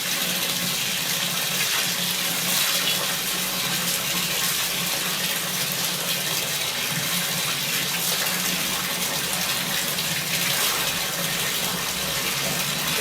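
Tap water gushes in a steady, loud, unbroken stream while wheat grain is washed in a rural home, filling the whole stretch with no pauses.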